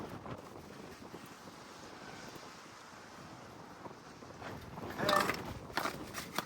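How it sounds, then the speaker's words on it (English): Gusty wind blowing outdoors beside an RV during sewer pipe repair, a steady rumbling rush that swells and grows louder toward the end, with no talking. "And of course the wind decided to pick up now."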